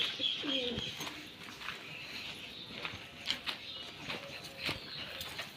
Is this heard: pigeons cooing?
yes